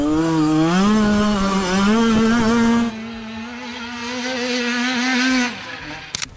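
A small two-stroke 50cc Derby motorbike engine buzzes loudly nearby, its pitch rising and falling as the throttle is worked, then cutting down near the end.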